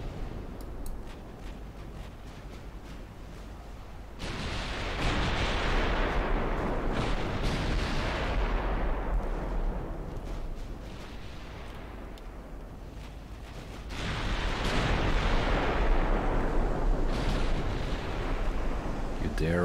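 Heavy battleship guns in the Ultimate Admiral Dreadnoughts naval game boom in two rolling salvos, each a long, loud rumbling roar that swells and fades over a low background hum, with a voice speaking faintly beneath.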